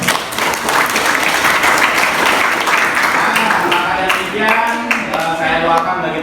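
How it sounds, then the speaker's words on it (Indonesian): Sustained, dense applause from a seminar audience at a motivational session for a health vocational school, loud and continuous throughout with only slight dips in intensity. "Tepuk tangan dulu."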